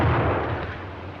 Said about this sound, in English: Being constructed to deliver a maximum blast effect, its explosion will stun rather than cause injury by fragmentation.